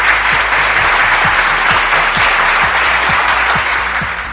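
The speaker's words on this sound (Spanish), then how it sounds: "Más aplausos" Sustained applause from a live audience at a talk on children's digestive problems, a dense steady wash of clapping with no voices over it.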